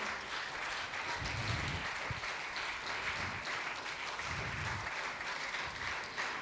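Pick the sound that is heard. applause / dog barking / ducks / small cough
applause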